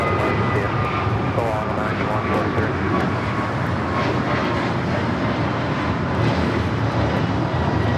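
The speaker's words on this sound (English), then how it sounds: "This is American Airlines 143 taking off to Honolulu on the A321neo" An American Airlines Airbus A321neo jet takes off at Los Angeles LAX, its engines a steady, broad roar that holds loud throughout, with people talking over it.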